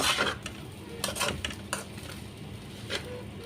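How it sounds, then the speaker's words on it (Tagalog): Metal utensil scraping and clinking against a pan while fried rice with Thai fish sausage is stirred, irregular close clatters and scrapes over a faint sizzle, no talk. "ang tagal ng halo ng halo dapat para hindi masunog yung kanin"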